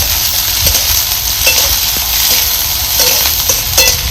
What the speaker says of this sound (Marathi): कांदा सुद्धा आपल्याला चांगला भाजून घ्यायचा आहे.